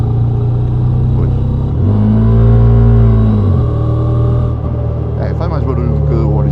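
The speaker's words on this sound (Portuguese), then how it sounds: "vem com um escape desse SC Project, faz um barulhinho mais, vamos ver" A Moto Morini X-Cape motorcycle with an aftermarket SC Project exhaust idles with a deep, throaty rumble, revs up sharply for a couple of seconds, then drops back to idle.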